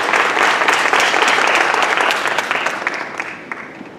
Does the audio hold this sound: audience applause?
yes